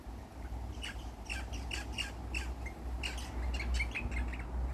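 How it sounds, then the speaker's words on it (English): Birds chirp and squawk outdoors in short, repeated bursts over steady low background rumble, moderately distant and fairly faint, with no talking. "I don't give you permission to kill a bird."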